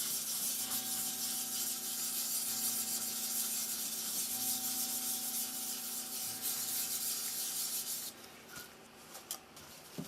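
AutoSol polish rubbed in circles on a scratched white plastic Toshiba RC-691F flip clock case makes a close, continuous rasping rub that stops abruptly near the end, leaving faint taps.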